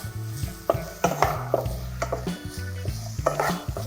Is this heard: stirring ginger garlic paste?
yes